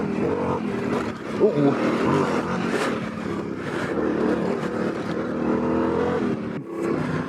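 A Yamaha Tenere 700 motorcycle rides on forest roads, its engine humming and revving steadily at close range and fairly loud throughout, with a rider's brief exclamation over it.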